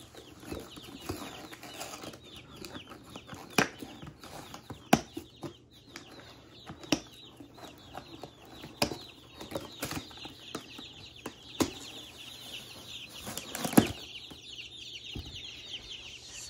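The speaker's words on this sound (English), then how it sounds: "So now that I have that all set up, I'm going to go ahead and unbox the chicks." Baby chicks being unboxed give off sharp, repeated peeps and clucks, mixed with rustling and brief wing flaps, close and fairly busy throughout.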